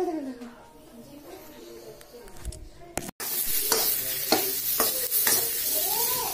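Potato filling sizzles and is stirred in a pan, with a loud frying hiss and scraping taking over midway after quieter sounds, and a voice heard briefly early on.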